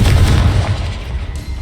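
Confringo blasting spell going off in the video game Hogwarts Legacy: a loud, deep booming blast with a rumbling low end that fades slightly over a second and a half.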